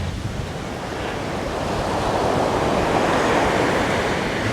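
Ocean surf rolling onto Trinity Beach along the Captain Cook Highway, a steady broad wash of breaking waves that swells slightly louder toward the end, with wind buffeting the microphone and no voices.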